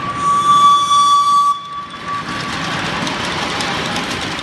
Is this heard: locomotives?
yes